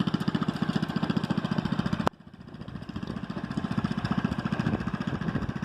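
A rototiller engine runs steadily while digging up garden soil, giving a loud, continuous pulsing chug with a brief sharp click partway through.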